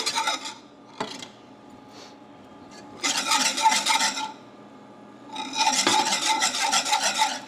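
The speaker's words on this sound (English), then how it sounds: "she will start whisking in the milk slowly" A whisk stirring milk into a pot on the stove for a peanut butter pie filling, raspy scraping bursts against the pot in two longer loud passes after a few short strokes, close by and without talk.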